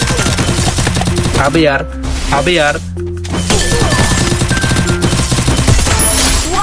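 Rapid gunfire bursts from the Free Fire video game, dense and loud throughout, with brief pauses where someone speaks over the game sounds.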